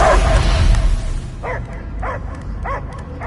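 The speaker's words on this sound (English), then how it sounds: "I hear only barking." In the Guardians of the Galaxy video game, a dog barks four times in an even rhythm, each bark short and fairly close, over a rumbling game soundtrack.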